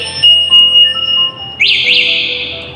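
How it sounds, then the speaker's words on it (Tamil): An electric scooter's anti-theft alarm sounds loudly close by, giving a sustained high electronic tone that jumps to a warbling, pulsing siren pattern after about a second and a half. "யாராவது அதை நகர்த்துனாங்கன்னா உங்களுக்கு அலாரம் அடிக்கும்"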